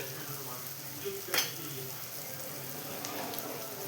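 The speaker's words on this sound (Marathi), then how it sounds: "मग आपण अंडे फोडून टाकायचे आहेत आणि ते मस्त एकजीव करून मिश्रण एकसारखं हलवून घ्यायचं आहे" An egg bhurji mixture of beaten eggs and tomato sizzles quietly in a pan, a soft, even, rain-like crackle with one brief louder scrape of stirring early on.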